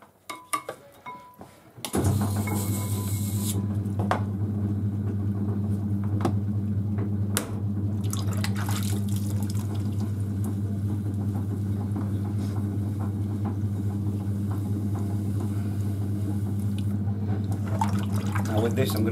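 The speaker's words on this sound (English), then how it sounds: "we throw another pot to make a spout" A pottery wheel spins while clay is thrown into a small spout piece for a salt pig, giving a steady low motor hum with wet, squelchy hand sounds on the clay and a person talking over it.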